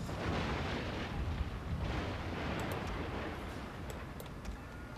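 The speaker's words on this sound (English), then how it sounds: "While explosive shells only seem to be putting up fire." Explosive shells fire in a Total War Shogun 2: Fall of the Samurai naval battle, a dense, continuous rumble of cannon blasts and booms rolling without pause for the whole stretch, loud and busy with no voices.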